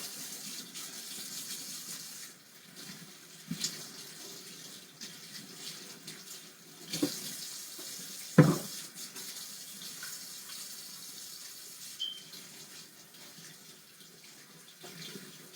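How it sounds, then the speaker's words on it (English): A kitchen sink tap runs steadily while greasy, bacon-coated hands are scrubbed under the water, with a few soft knocks and splashes scattered through the continuous flow. "Let me get my hands washed off, y'all."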